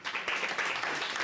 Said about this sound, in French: Je vous remercie d'applaudir Célica Tellier,